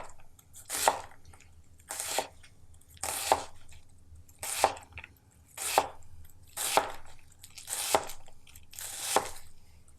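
A kitchen knife slices thin cuts through food on a cutting board, seven evenly spaced, crisp chops about a second apart, close and clear with nothing else heard.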